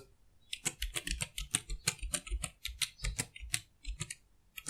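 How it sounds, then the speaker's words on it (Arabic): Fingers type a TP-Link router login IP address on a computer keyboard, producing a rapid, close run of clicky keystrokes in an uneven rhythm, with no talk. "كل ما علي انه اقوم بكتابة اي بي الدخول لراوتر التي بي لينك"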